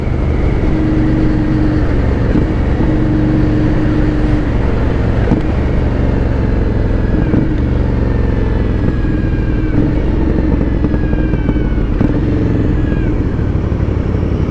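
A 2020 Aprilia Dorsoduro 900 motorcycle runs close by, its engine droning steadily and loudly throughout with slight rises and dips in pitch, heard alone without talk.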